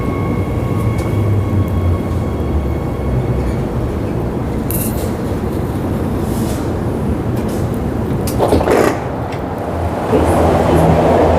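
A train rumbles steadily past at close range through a station, a continuous roar of wheels and engine with brief hissing bursts near the end.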